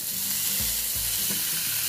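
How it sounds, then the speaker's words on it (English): Loud, steady sizzling of a T-bone steak searing on a hot indoor grill, a continuous crackling hiss with no voices. "You hear that sizzling, guys?"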